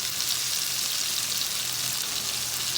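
Fish goes into a pan of cooked-down spices and fries with a steady, loud, dense sizzle that holds close and unbroken throughout.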